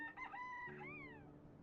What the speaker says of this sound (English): Bird sounds also alert the player.